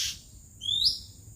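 A released oriental magpie-robin (burung kacer) gives a short, bright upward chirp, preceded by a brief sharp squeak, clear and fairly close over faint low background rumble.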